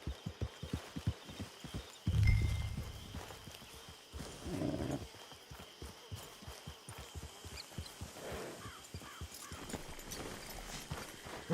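Horse hooves clip-clopping at a steady walking rhythm in the video game Red Dead Online, crisp close thuds with a louder snort or movement burst partway through, no speech.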